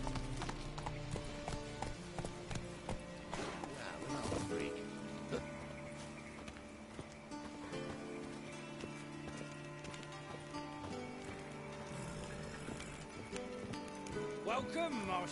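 Geralt's horse Roach gallops in the video game Witcher 3, with steady, rhythmic hoofbeats over game music and ambient sound, continuing throughout.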